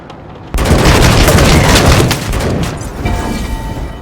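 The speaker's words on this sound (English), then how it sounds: "I can shoot this as well." Heavy gunfire in the post-apocalyptic video game Wasteland 3 opens with a sudden loud blast, then a dense, sustained roar of shots that eases slightly but keeps rumbling to the end.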